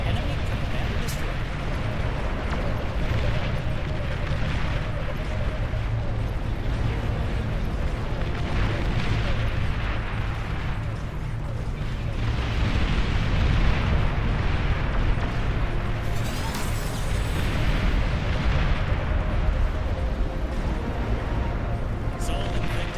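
Explosions as an enemy commander is destroyed in the RTS game Beyond All Reason: a continuous, heavy rumble of blasts that holds for the whole stretch, loud and dense, with voices speaking over it.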